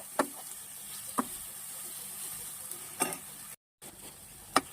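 Tomatoes fry in oil with a steady, faint hiss and sizzle, broken by a few sharp stirring knocks against the pan, up close with no talking.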